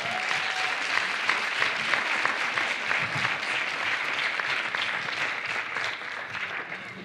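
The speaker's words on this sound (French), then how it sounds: "Allez, venez, on l'applaudit s'il vous plaît." Conference audience applauding a volunteer invited on stage, steady dense clapping from a large crowd throughout, fairly even and sustained at moderate loudness.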